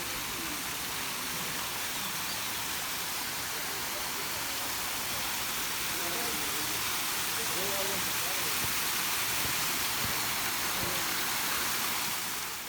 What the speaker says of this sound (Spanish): una pequeña cascadita.